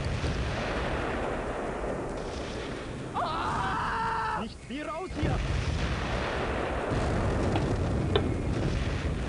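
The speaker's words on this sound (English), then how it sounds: "Just with all this registered artillery doing us a number." Artillery fire in the WWII strategy game Close Combat: Cross of Iron, a steady rumbling barrage with a brief sharper burst mid-clip over continuous battlefield noise.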